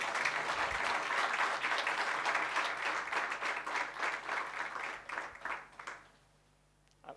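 Seminar audience applauding at a national seminar keynote, a sustained burst of clapping lasting about six seconds before fading away.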